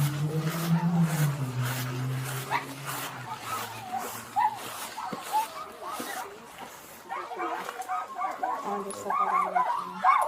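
Dogs at a hoarding house bark and yip in scattered bursts of varying loudness, mixed with whimpers and household noise, while people talk over them.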